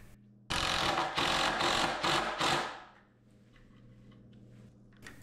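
Power drill driving screws into a wooden workbench top, a loud whirring burst of several short pulses lasting a couple of seconds, then falling away to quiet room noise with a faint click at the end.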